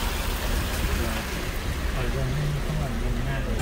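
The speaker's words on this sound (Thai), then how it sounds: "โอ้ลำธาร" A mountain stream flows on a high, cold tea-growing hillside, a steady broadband rush of water running continuously under people talking.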